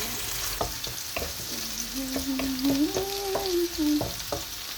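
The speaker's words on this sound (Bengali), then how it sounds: "দিয়ে দিচ্ছি পেঁয়াজ কুচিগুলো জেলে" Chopped onions frying in oil for a home-cooked lunch, a steady close sizzle with repeated scrapes and clinks of a spoon stirring the pan throughout.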